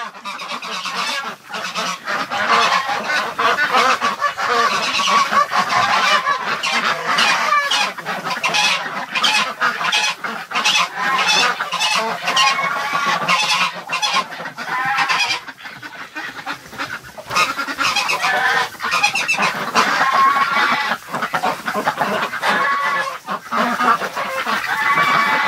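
A flock of geese and ducks wintering in bitter cold honks and quacks continuously, dense overlapping calls close by for the whole stretch.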